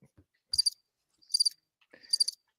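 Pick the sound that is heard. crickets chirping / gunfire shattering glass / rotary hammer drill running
crickets chirping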